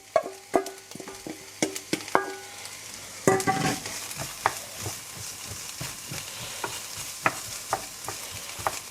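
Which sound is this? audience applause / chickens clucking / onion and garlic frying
onion and garlic frying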